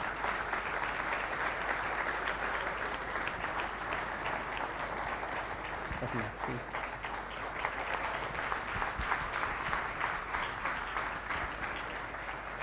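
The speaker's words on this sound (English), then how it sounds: "big round of applause for Miss Manisha Koirala." Sustained audience applause, a dense wash of clapping from a large crowd continuing steadily throughout.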